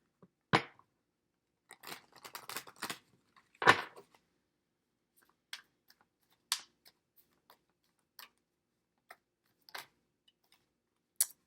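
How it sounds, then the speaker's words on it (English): Tarot cards being shuffled make scattered soft flicks and riffles, a few short bursts of snapping card edges separated by quiet pauses, close and fairly faint. "A few more shuffles here."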